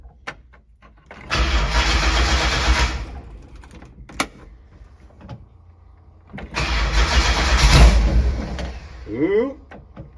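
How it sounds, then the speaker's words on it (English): The engine of a mud dragger cranks over in two long bursts, loud and close, with a few clicks and clunks between attempts and no talk. "I'll let her cycle over to get some fuel in the cylinders and then I'll turn on the ignition"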